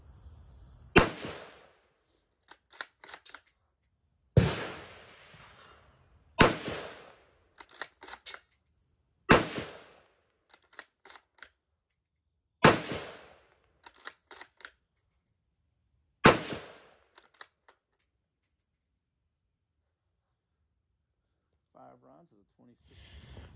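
Ruger American rifle in 7.62x39 firing reloaded ammunition: six sharp, loud shots spaced a few seconds apart, each followed by quick metallic bolt-cycling clicks.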